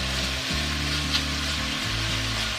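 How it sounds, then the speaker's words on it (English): Chopped sliced bacon browning in a pan gives a steady, even hiss of sizzling fat, fairly quiet, over a low droning hum with no voices. "I'm just starting by browning up some sliced bacon that I already chopped up."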